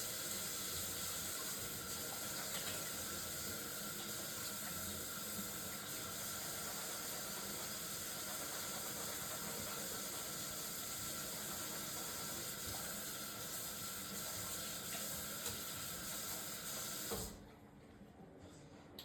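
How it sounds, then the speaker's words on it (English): Kitchen tap water runs steadily over a knife being washed during cooking prep, a continuous close hissing splash that stops abruptly near the end. "I'm gonna wash our knife"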